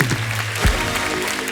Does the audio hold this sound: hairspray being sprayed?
no